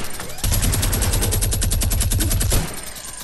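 Automatic gunfire in the video game Evolve, a single loud rapid burst of evenly spaced shots lasting about two seconds, close and dominant over faint background.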